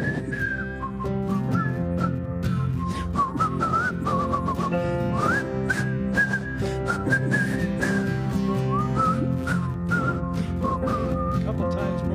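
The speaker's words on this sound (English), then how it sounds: "So I want you all at home to be whistling with us here" Several people whistle a tune together, a continuous melodic line of clear sustained notes and slides running throughout over a soft accompanying background.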